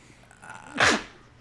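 A single short, sharp sneeze bursts out close by during a podcast recording, after a moment of quiet room tone.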